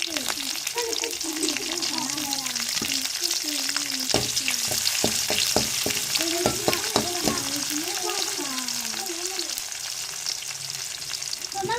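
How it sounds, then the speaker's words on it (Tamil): Chopped onions and curry leaves sizzle steadily in a hot pan, a broad crackling hiss running throughout with repeated scraping and stirring clatter, close and fairly loud, while a voice speaks briefly over it. "வெட்டி வச்ச வெங்காயத்தையும் சேர்த்துக்கிறோம்."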